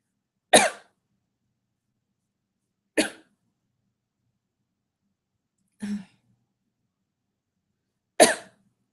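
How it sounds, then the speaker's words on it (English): Four single coughs, spaced a few seconds apart, each short and close with silence between them. "Excuse me for coughing."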